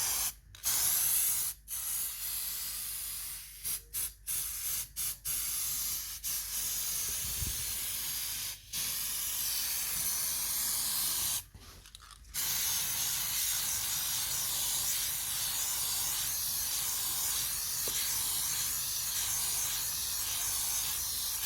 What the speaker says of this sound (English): spraying the glue and putting the wood on and pressing it down